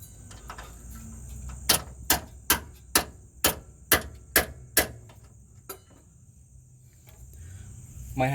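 About nine sharp metallic taps strike a rusted control arm bolt on a 2003-2009 Toyota 4Runner, evenly spaced and close, followed by a lone weaker tap, with a faint high ringing tone in the background.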